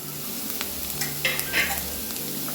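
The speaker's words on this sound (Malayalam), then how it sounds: "നെയ്യ് ഉരുകിയിട്ടുണ്ട് അപ്പോൾ ഞാൻ ക്യാരറ്റ് ഇട്ട് കൊടുക്കുകയാണ്" Grated carrot fries in melted ghee for a carrot fruit custard, giving a soft, faint sizzle with a few light scraping stir sounds and no talking.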